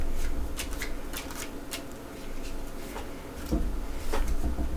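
Tarot cards shuffled by hand in a repeated, riffling pattern of soft papery flutters and taps, close and fairly steady, with no talking over it.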